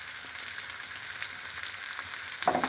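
Steak sizzles steadily in a frying pan while being basted, a constant close hiss of frying with a brief louder spatter near the end, and no voices.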